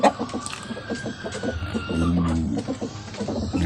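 Chickens in a hot farmyard cluck in quick repeated bursts at close range, with a rooster's call mixed in and someone talking briefly in the background.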